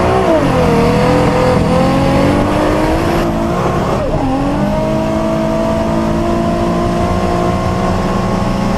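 A 1500HP Toyota Supra race car pulls hard off the trailer on a half-mile course, its engine roaring loud and close as the pitch climbs through gear changes in one continuous run.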